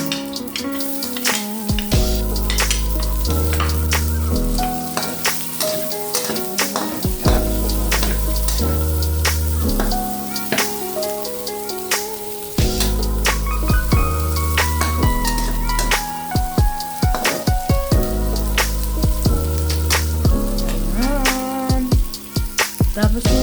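Garlic sautéing in a pan for ginisang sayote leaves gives a steady, loud sizzle and crackle throughout, with repeated clinks of a utensil against the pan layered over it.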